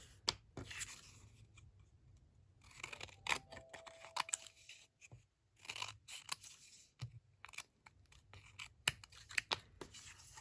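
Scissors cut paper scraps for a keychain mini album, making irregular crisp snips and rustles near the listener, with pauses between cuts and faint handling noises. No one speaks.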